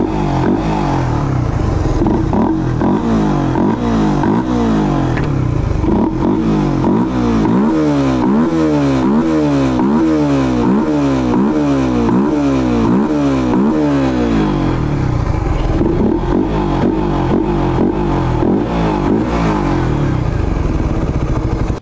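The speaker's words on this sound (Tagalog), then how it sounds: "napakaganda ng tunog ng ating Raider 150 Fi kapag ka naka-open throttle body o naka-ram air" A Raider 150 Fi motorcycle engine fitted with a ram air intake revs loudly and close, its rapid revving pulses rising and falling over a steady idle, with no talking.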